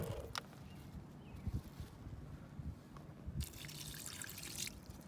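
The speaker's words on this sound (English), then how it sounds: "we're adding the water I'll add like this much to more. the mixture" Water trickles and drips into a cornstarch mixture for oobleck, a faint, steady pour with small splashes and a brief brighter gush near the end, recorded close and quiet.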